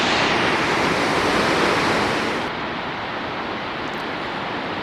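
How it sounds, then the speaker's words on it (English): Foss waterfall in Norway, a tall cascade seen from a high cliff edge, gives a loud, steady broadband roar close by, easing slightly halfway through with no voices. "we are at the Foss waterfall"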